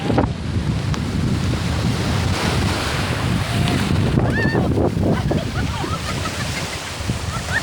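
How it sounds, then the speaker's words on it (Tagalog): Heavy surf whipped up by a typhoon crashes and churns continuously, with wind buffeting the microphone in a constant low roar and faint high chirps drifting in. "Namnamin nyo yung dagat na malakas ang alon"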